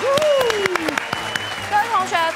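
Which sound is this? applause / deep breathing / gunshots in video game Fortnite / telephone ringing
applause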